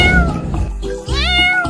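A kitten meowing close and loud, a few high, drawn-out mewing cries in quick succession with no other sound around them.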